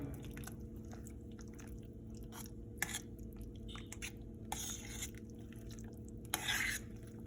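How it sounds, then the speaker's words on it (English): Sour cream is being stirred into a pork chop sauce in a pan, making soft, squishy stirring and faint scraping sounds, quiet and steady with no voices. "we're just going to mix it in"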